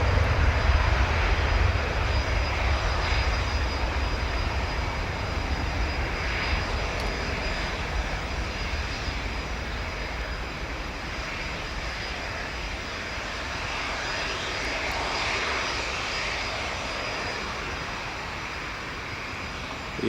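A British Airways airliner departs runway 25 at Newcastle International Airport, its engine roar steady and loud for the full stretch, broad and sustained with a slight swell partway through, with no voices.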